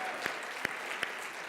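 Applause from an awards show audience at a film festival, a steady patter of many hands clapping with a few sharper individual claps standing out.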